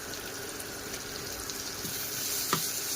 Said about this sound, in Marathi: हे चांगलं ढवळून घेऊया